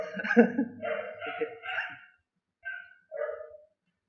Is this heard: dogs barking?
yes